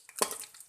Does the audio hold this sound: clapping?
no